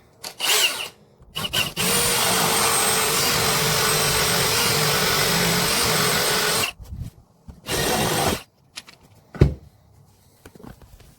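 Power drill boring a guidance hole in a wooden door, a steady loud whirring grind lasting about five seconds, preceded by short starts and followed by another brief burst and scattered knocks.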